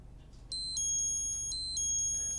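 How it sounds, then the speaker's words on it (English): A thin, high electronic alarm beeping in repeated rapid pulses from a vintage Seiko D409-5020 digital watch, fairly quiet and close, over a faint low hum. "let's see what happens when the alarm sounds at 10:37"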